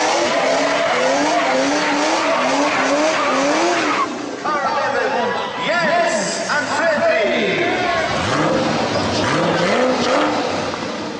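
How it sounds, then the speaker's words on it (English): Gumball 3000 rally cars in 2013 pulling away one after another, engines revving loudly and tires squealing close by, with overlapping roars and rising pitch sweeps, while people talk and cheer in the background. "and saw all of the cars off on their way."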